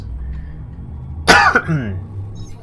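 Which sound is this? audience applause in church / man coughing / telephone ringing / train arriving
man coughing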